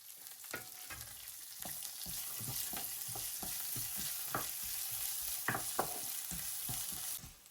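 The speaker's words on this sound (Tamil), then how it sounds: "வெங்காயம் பச்சை மிளகாய் உள்ளி கருவேப்பமிலை எல்லாத்தையும் உண்டாவை போட்டு நாங்கள் வதக்கி எடுத்துக்கொள்ள போகிறோம்" Onion, green chilli, garlic and curry leaves sauté in a pan for an egg curry, giving a steady close sizzle of frying broken by repeated scraping stirs of a spoon, with no talking.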